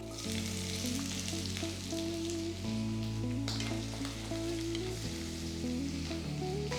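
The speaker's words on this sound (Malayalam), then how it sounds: "എണ്ണ നന്നായിട്ട് ചൂടാകുമ്പോൾ ഇതിലേക്ക് ഒരു സവാള സ്ലൈസ് ചെയ്തത് ആഡ് ചെയ്യാം" Sliced onion sizzles steadily in hot coconut oil as a steady frying hiss throughout, set under continuous background music.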